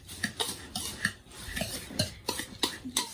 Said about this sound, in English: what we're going to do is we're going to just whisk that all together